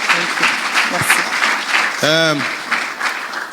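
Church congregation applauding at a Sunday worship service, a broad steady wash of clapping running throughout, with someone speaking over it and a brief cheer.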